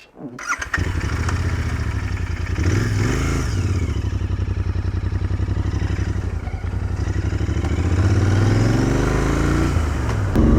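A Royal Enfield Interceptor 650 motorcycle ridden on the road, its engine note loud, close and continuous as it pulls and revs through the gears without pause.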